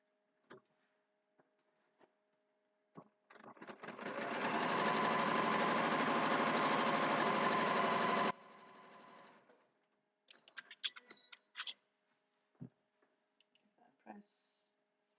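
A sewing machine stitches fabric pieces for thread-spool quilt blocks, running loud and continuous for about four seconds, then stopping, followed by scattered clicks and handling noises.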